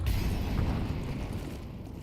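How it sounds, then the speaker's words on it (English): A flashbang grenade goes off in a video game shooter, a loud broadband burst that fades into a long hissing ring. "Flashbang."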